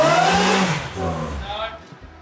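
An Alfa Romeo V6 engine revs hard indoors during a workshop burnout attempt, a loud rising and falling roar that fades out near the end, with voices talking over it.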